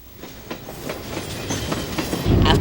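A passenger train runs on rails toward San Luis Obispo, wheels clicking rhythmically over the joints in a steady clickety-clack that grows louder and heavier toward the end.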